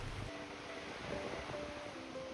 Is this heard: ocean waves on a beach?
yes